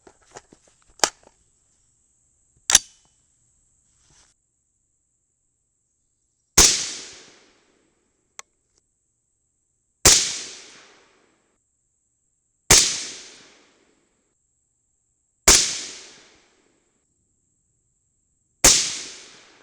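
Rifle shots from an AR firing a group of .223 ammunition, seven sharp loud reports spaced a few seconds apart, each with a ringing decay, the first two quicker and the rest evenly paced.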